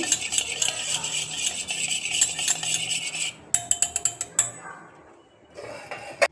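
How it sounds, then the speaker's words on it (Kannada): A spoon beats fresh curd in a bowl with steady, rapid scraping and clinking, close and fairly loud. The beating breaks into a few sharper taps on the rim, then comes back after a short pause. "ಫ್ರೆಶ್ ಮೊಸರು ತೊಗೊಳ್ಳಿ. ಇದನ್ನ ಚೆನ್ನಾಗಿ ಬೀಟ್ ಮಾಡ್ಕೊಳ್ಳಿ."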